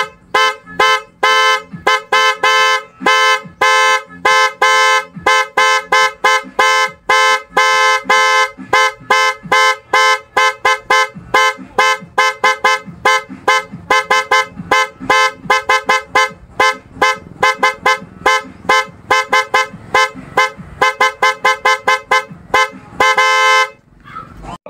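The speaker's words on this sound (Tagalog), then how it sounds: "Ngayon mga boss ay pagsabay naman natin tong dalawang Makoto horn, high at low." Two Makoto motorcycle horns, one high-pitched and one low-pitched, blare together in loud, rapid repeated honks that run almost continuously, close up with no talking.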